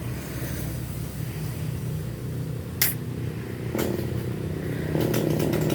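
The engine of a tree-cutting machine, likely a chainsaw, idles and rattles steadily high up a tree about 20 meters tall, with a sharp click and the running sound growing slightly stronger toward the end.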